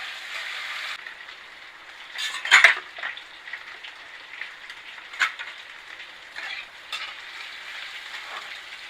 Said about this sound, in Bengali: আগে করলাটা ভেজে নেব